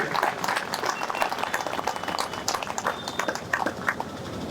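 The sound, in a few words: audience applause for a padyatra participant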